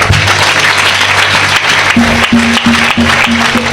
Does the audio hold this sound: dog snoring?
no